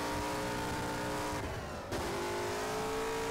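Race car engine in the rFactor racing game, a loud sustained high-pitched drone that dips briefly as the car lifts off, then climbs again into a hard rev.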